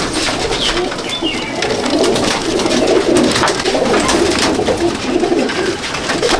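Golden pigeons coo in low, rolling murmurs that repeat steadily through a dense, continuous wash of flock noise, close by and fairly loud throughout.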